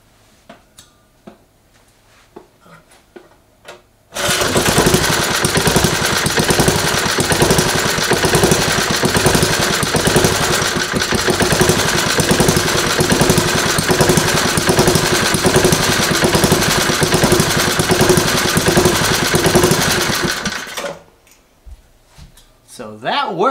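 A small engine running on propane fires up suddenly and holds a loud, rough, steady chugging for about sixteen seconds before shutting off, with quiet handling noises before and after.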